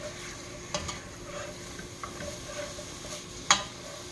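Sausage seasoned with sage is stirred around a frying pan for Southern sausage gravy, giving a soft continuous sizzle broken by scraping stir strokes and one sharp utensil clack near the end, with no talking.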